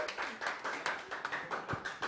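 Faint rhythmic clapping from a small audience keeps time at a live musical performance, with about a dozen distinct beats spaced evenly, somewhat distant.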